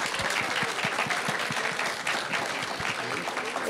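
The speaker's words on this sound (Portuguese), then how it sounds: "A salva de palmas para Sica." Applause from the audience at a law conference on AI and the legal profession in São Paulo: sustained, even clapping from a crowd, moderately loud, with a few sharper individual claps standing out and no speech over it.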